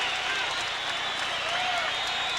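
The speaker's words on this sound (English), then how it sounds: "Oh, what an ovation." A boxing arena crowd gives a loud, sustained ovation between rounds of a Daniel Zaragoza versus Paul Banke world title fight, a continuous roar of clapping and cheering.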